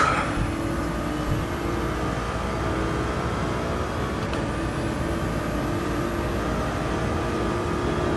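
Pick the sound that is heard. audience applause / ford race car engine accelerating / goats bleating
ford race car engine accelerating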